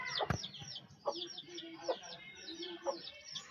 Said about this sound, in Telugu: కోడి పిల్లలు గుడ్లు కూడా ఉన్నాయి. కోడి పిల్లల గుడ్లు ఇవన్నీ పెంచుతాం మేము.